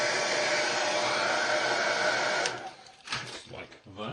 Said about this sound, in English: So just get the hairdryer out the way.